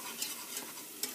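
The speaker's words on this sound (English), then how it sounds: "add a heaping tablespoon of flour, and with a whisk, I'm just going to mix this in." A whisk mixes a heaping tablespoon of flour into garlic in a pan to form a roux, giving soft sizzling with quick scraping strokes and a few sharper clicks, close and brief with no talk.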